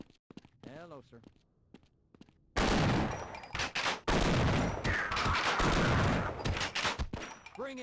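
Shotgun blasts in a PlayStation video game demo: after quiet moments with a voice, loud booming shots and rattling gunfire burst in and continue with brief gaps, close and dominant.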